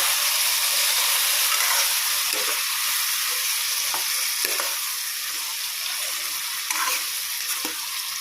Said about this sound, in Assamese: এতিয়া আমি তাতে দি দিম পিচি থোৱা পচলাখিনি যিহেতু সিজিব লাগিব সেয়েহে অলপ সময় ভাজি ল'ম আকৌ।